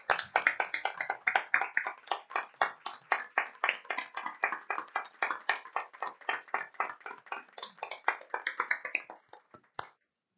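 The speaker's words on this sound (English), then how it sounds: "Please join me in applauding this group again." Audience at a school board of education meeting applauding a group, a modest round of close, crisp individual claps for about ten seconds that tapers off.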